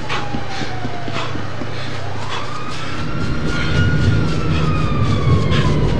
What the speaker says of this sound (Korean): 기차 저기 있다